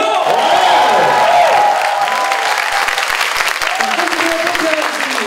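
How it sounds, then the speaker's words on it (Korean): Sustained studio audience applause with cheering on a Korean talk show, a dense, loud wash of clapping that holds steady for several seconds while a voice speaks over it. "박수 한번 주세요!"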